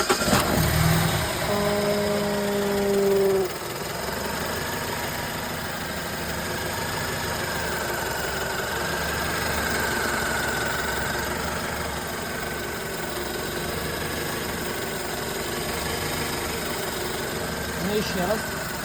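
A BMW E91 with a 2.0 petrol engine and automatic gearbox idles steadily just after a cold start, a continuous mid-pitched engine hum with a brief louder burst at the start and faint voices nearby.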